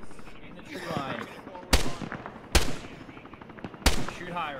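Gunfire in the military shooter Arma, three loud sharp shots spaced about a second apart over radio chatter and voices talking throughout.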